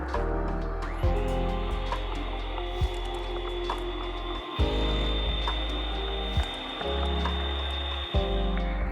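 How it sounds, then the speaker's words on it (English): A chocolate loaf cake batter with milk and vanilla is beaten by an electric mixer, a steady close motor whine with rhythmic thumps and dips as the beaters move through the bowl. "I'm going to whisk this again."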